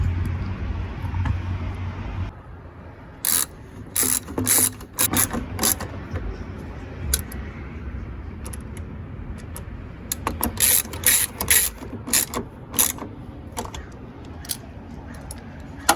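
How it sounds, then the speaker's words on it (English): A ratchet tightens a bolt on the radiator coolant reservoir of a Ford Super Duty F-250 to F-550 truck, giving rapid clustered bursts of close, crisp ratcheting clicks separated by short pauses, with no talking. "After you hand tighten it with your ratchet."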